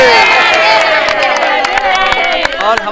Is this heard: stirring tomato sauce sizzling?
no